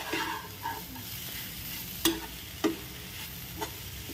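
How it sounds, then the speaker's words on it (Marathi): Grated sweet potato mixed with lemon juice and other ingredients is stirred in a pan over low gas: a soft sizzle with a few distinct scraping taps of the spoon, close and unaccompanied by talk. "आता आपण सगळे इन्ग्रेडियंट्स आहेत ते छान मिक्स करून घेऊया."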